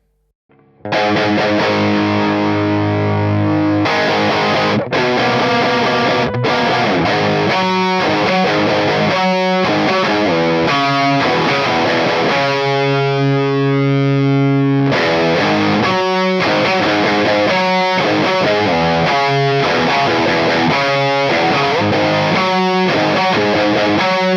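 An electric guitar runs through a free amp sim with a metal boost, playing heavily distorted, saturated chords and riffs. It is loud and continuous, with short breaks between phrases and no talking.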